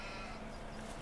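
Sheep bleating in an orchard farm video game, a steady continuous bleat-like tone held at low volume throughout, with no talk over it.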